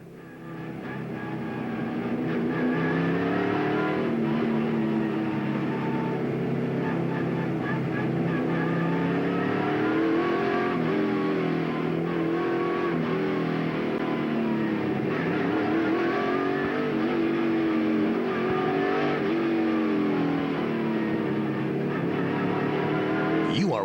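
Race cars roar continuously around the Bristol Motor Speedway short track during the 2003 NASCAR Cup night race, a dense, steady engine drone with rising and falling pitch as the pack circulates, heard loud throughout.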